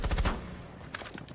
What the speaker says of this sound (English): Already the gunshots flying from both these teams.